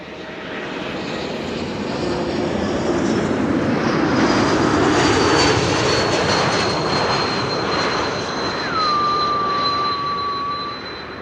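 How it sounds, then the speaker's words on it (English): An Embraer E2 jet roars past on arrival at Amsterdam Schiphol Airport with a broad rumbling wash, its characteristic high thin whistle sliding and holding above it as the aircraft goes by. "So you'll hear that whistle, the E2 whistle again,"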